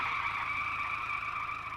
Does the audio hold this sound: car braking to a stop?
yes